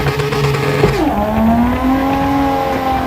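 Car engine revving hard in fourth gear during a moving burnout attempt, a loud close drone that dips and then climbs steadily in pitch with no talking.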